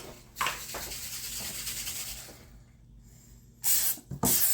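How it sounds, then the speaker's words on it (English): Two or three short hissing bursts of aerosol oil spray into a measuring cup, close by, separated by quieter pauses with faint rustling. "We're going to spray the measuring cup with oil."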